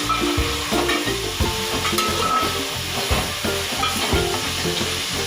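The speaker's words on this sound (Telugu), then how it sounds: "egg fry" Eggs frying in a pan with coarse salt, being stirred: loud, close sizzling with repeated scraping strokes in a steady rhythm and a constant hiss running throughout.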